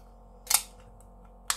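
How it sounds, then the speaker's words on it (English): A can of DDH HBC 586 IPA from Track Brewing cracked open, giving a sharp hiss-pop close to the microphone and then a second crisp click a moment later, in an otherwise quiet room. "let's crack it open and see what we've got"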